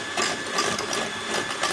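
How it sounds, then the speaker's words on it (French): Electric hand mixer whipping chilled crème fraîche into chantilly, a steady close buzzing whir with slight rhythmic wobble, running alone without talk. "Donc là, vous faites une belle chantilly. Alors, l'idée, c'est que tout soit bien frais et de venir la monter avec un batteur."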